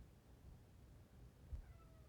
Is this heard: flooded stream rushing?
no